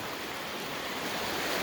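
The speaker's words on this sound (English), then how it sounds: "it's almost like it's lapping here on the shoreline" Water from an overfull creek washes against a beach shoreline in a constant broadband rush, unbroken and fairly close.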